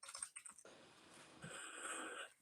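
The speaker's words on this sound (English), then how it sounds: "Katie, Peter, can you see me typing there in the chat box?" Keys on a computer keyboard are typed into an online chat box, a quick burst of soft close clicks followed by a steadier, faint run of tapping.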